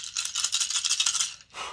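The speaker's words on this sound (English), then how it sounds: "Let's go ahead and roll the dice" Dice rattle and clatter continuously, shaken in a container for over a second, then a short pause and a final burst of rattling, close and alone.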